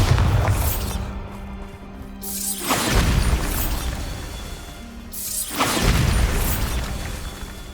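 Repeated Bombarda blasting-spell explosions in the video game Hogwarts Legacy: two loud, broad booming bursts that each swell and decay into a rumbling tail, set against a low hum of ambient game sound.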